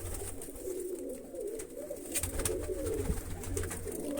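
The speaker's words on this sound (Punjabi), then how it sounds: "ਆ ਵੱਡੀ ਕਬੂਤਰੀ ਆ" A pigeon coos softly in low, throaty repeated calls, close by, over faint background rustle and no speech.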